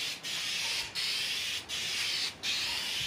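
Rattle can spray paint hissing onto a car fender of a Passat, four sustained bursts of hiss separated by brief pauses, close and steady.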